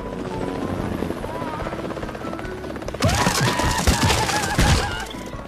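Cartoon helicopter with steady rotor drone and engine hum, growing louder and busier partway through with bangs and clatter layered on top, alongside cartoon effects and music.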